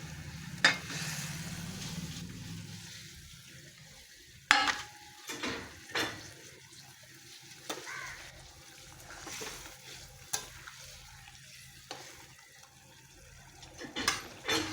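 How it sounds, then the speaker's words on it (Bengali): Vegetables for a pointed gourd and prawn dish frying in a hot pan, a soft sizzle broken by repeated clinks and scrapes of a stirring spoon at irregular intervals, close by with no talk. "আমি সবজিগুলো ঢেলে দিচ্ছি"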